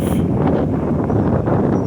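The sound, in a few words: wind blowing into microphone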